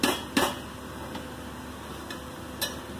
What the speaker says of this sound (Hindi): इनको एक बारी पूरा अच्छे से नीचे से उठा कर चावलों को